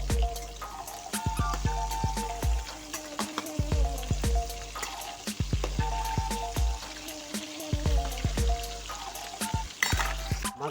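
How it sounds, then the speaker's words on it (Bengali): Fish pieces fry in a kadai of hot oil after being turned over, a continuous close sizzle with repeated spitting pops and occasional knocks, no voices. "মাছগুলো এক পিঠ হয়ে গেছে, এবার উল্টে দেবো।"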